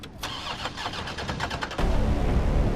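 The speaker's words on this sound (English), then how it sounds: "Start the car." Car engine in the Resident Evil 3 Remake game cranking with a quick run of clicking turnover strokes, then catching and settling into a loud, rumbling idle.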